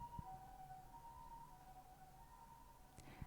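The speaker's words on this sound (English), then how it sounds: "do you hear the siren?" A faint siren wails steadily far off, its pitch wavering slowly against a quiet background.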